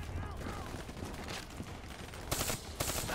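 Burst-fire weapon in Call of Duty: Black Ops III firing repeated short volleys amid mechanical clatter, with sharper, louder bursts toward the end and other game sounds layered throughout.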